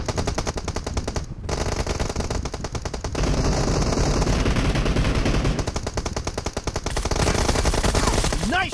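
Rapid automatic gunfire from the mobile battle royale game PUBG Mobile, dense bursts of machine-gun shots rattling almost continuously, loud and close, with a short break near the start.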